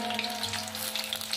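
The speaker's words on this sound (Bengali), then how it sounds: "বেগুনগুলো আমি দিয়ে দিলাম ভাজতে।" Eggplant pieces sizzle in hot oil with a little salt, a loud close continuous crackling and spitting fry with small pops, steady throughout.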